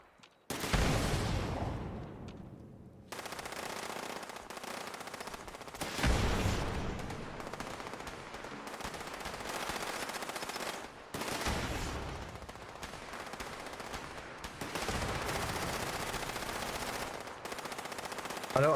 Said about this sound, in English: Who is still shooting at that?